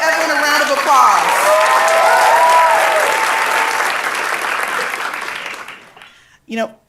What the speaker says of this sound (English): give Evelyn a round of applause